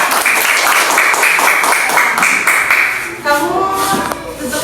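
Classroom applause for a student, a dense burst of many children clapping that fades after about three seconds into a few voices talking.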